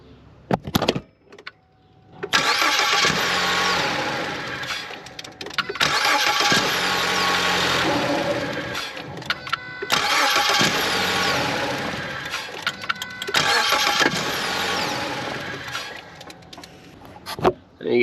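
A 2013-2016 Ford Escape being cranked and started with its noise during start-up: three loud bursts of cranking that catch into a running engine, each held several seconds and separated by short pauses, close up.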